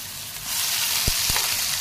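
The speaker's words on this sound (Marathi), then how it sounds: "फोडणी झाल्यानंतर आपण जे वाटलेलं मिश्रण आहे ते आता परतून घेणार आहे" Ground onion-tomato paste sizzles as it goes into hot tempering with asafoetida for a potato curry, a sudden broad hiss that swells and holds, with a couple of brief clinks from a utensil.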